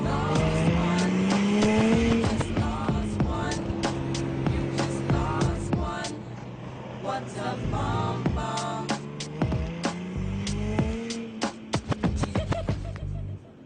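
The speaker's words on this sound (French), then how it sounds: "on est vraiment assis comme dans une voiture de sport en effet, avec le bruit qui va avec" Sports car engine revving hard while driving, loud throughout, with rising and falling gear pulls, sharp clattering transients and steady rumble from inside the cabin.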